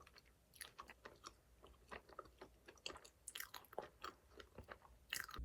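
Close, quiet chewing of frozen raspberries, with irregular crunchy bites and small crackles as the seeds are crushed, heard alone without talk.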